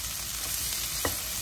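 Boiled potatoes fry with green chillies, onion and grated ginger in a pan, giving a continuous, even sizzle with one small stirring scrape.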